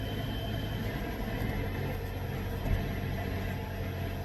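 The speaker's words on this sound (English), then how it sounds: "y'all should hear me over this truck running" A truck engine idles close by with a steady low rumble that holds throughout, rising briefly near the end, with no talk over it.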